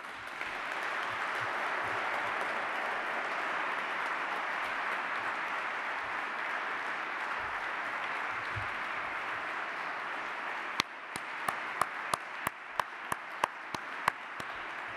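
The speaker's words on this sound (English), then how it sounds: "that gets the loudest applause of the whole morning" Sustained audience applause fills a hall at a Commonwealth business forum, steady and dense, then thins toward the end with a few distinct sharp claps standing out.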